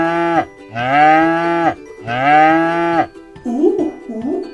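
A cow gives two long, loud moos, each over a second, with a short gap between them. A voice then follows, imitating the lowing with repeated 'ooh' sounds.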